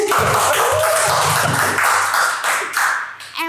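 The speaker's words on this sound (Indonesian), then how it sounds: "Wow, keren, tepuk tangan anak-anak." Children applaud at an event, producing a dense, loud wash of clapping that swells in several bursts and then fades near the end.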